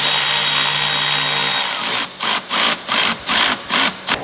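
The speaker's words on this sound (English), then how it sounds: "get a ratchet in there, make your life so much easier" A tool drives the headlight bolts on a Ford Bronco: a steady whir first, then a run of rhythmic, loud pulses, close and without talk.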